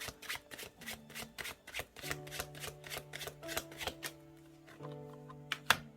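Tarot cards being shuffled and drawn by hand, a rapid series of crisp card riffles and slaps close by, with a soft musical tone underneath and no talk.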